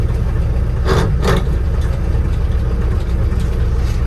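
A 1969 Ford F100 engine idles with a steady, loud low rumble close by, two brief knocks sounding early on before the even idle carries on alone.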